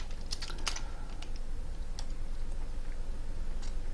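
Quick, irregular clicks of computer keyboard keys and mouse buttons tapping over a steady low background hum, with a few sharper clicks standing out near the start.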